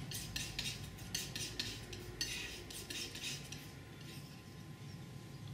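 A palette knife scraping and mixing white into oil paint on a palette, a steady run of close, soft scrapes and light clinking strokes with no talking.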